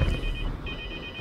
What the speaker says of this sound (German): Der hat wirklich ein Telefon verschluckt.